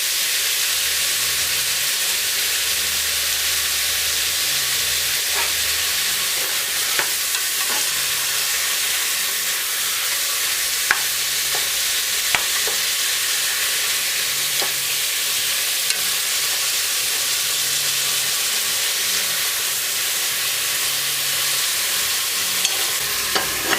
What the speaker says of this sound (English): Allow it to simmer for about 2 minutes.